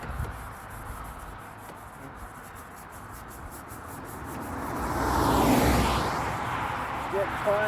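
A headlight lens is wet sanded with finer grit sandpaper from a Turtle Wax restoration kit, a soft, continuous rubbing that swells louder midway, heard close with a voice speaking.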